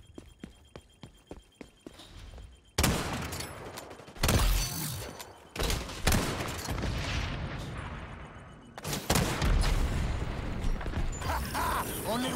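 Gunfire from fire bullets in the XDefiant shooter game: a run of sharp, evenly spaced shots opens, then dense, loud bursts of weapon fire and impacts crowd the rest, with brief gaps between volleys.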